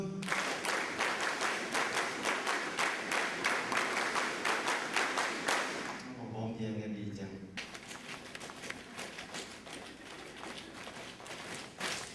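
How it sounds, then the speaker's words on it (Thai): A group of students at a university development camp claps in quick rhythmic sets for about six seconds. The claps are steady and evenly spaced. A voice speaks over them, and a duller, noisier stretch follows. "เยี่ยมยอดมากปรบมือสองชุด"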